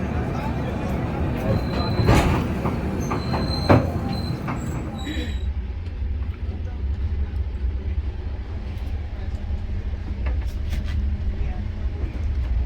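Heard from inside the Saraighat Express as it runs at night, a steady low rumble of wheels and carriage noise with a brief metallic squeal and clanks early on, then a continuous hum with faint background voices.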